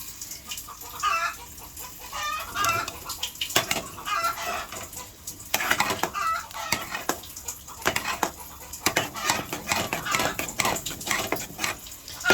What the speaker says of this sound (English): I'm so used to the sound of the yard fowls